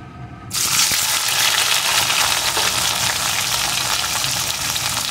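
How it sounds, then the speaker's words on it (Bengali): Bitter gourd pieces drop into hot mustard oil, and a sudden loud, steady frying hiss starts and holds, close and bright, with no voices. "তেলটা গরম হয়ে গেছে, এখন আমি উচ্ছে টুকরোগুলোকে প্রথমে দিয়ে দেবো।"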